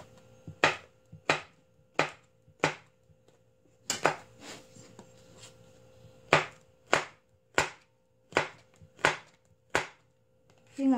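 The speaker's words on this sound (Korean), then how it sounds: "피망은 길쭉길쭉하게 썰어줍니다" A knife cuts bell peppers into long strips on a cutting board, producing a steady series of sharp, close taps at an even rhythm with a short pause partway through.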